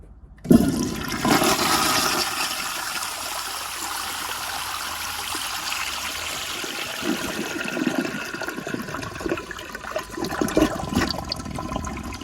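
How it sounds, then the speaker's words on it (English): A 1981 Eljer Emblem toilet on a flushometer valve flushes with a sudden loud rush of water that roars steadily for several seconds and ends in a gurgling siphon, heard close up. "So here's a close-up flush, but on the opposite side of that one."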